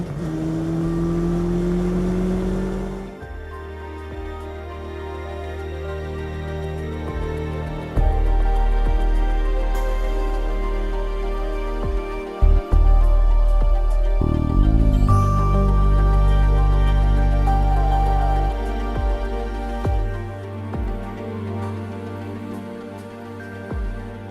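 Legend Car racing on the Pau-Arnos circuit, its engine droning steadily with repeated shifts and revving surges, heard from inside at close range and fairly loud throughout, with no talk.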